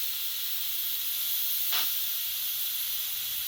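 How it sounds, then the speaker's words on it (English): An Instant Pot lets off a steady, loud hiss of steam from its release valve, continuous and close, with a brief sharper spurt partway through and no one speaking. "That still had a lot more steam in it than what I was anticipating."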